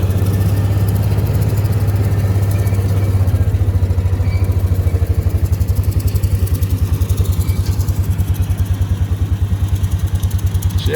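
A riding mower engine idles with a steady low drone, then shifts to a rhythmic, pulsing chug with clattery overtones that continues to the end, close and fairly loud outdoors at a camp work day.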